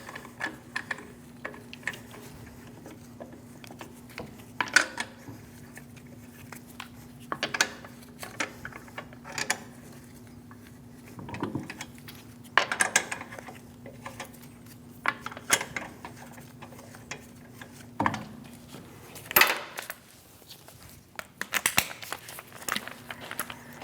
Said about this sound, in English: Install the 5 lug nuts.